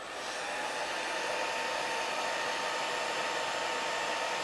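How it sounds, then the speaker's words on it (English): A blow dryer runs steadily at full power to dry freshly painted accents on a candy corn painting, a constant loud whooshing roar without pause. "So let me hit it with the blow dryer."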